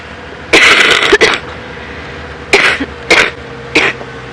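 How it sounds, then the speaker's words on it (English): Someone coughs during a live safari drive broadcast, a pair of rough harsh coughs followed by three more separate bursts spaced apart, close and loud against a quiet background. "the cough is definitely getting better"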